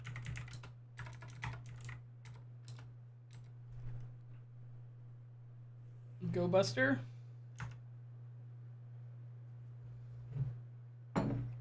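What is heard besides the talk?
typing on a computer keyboard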